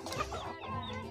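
Clucking and squawking from a toy chicken figure in a set of farm animal toys, a short burst of close, steady fowl calls lasting about a second.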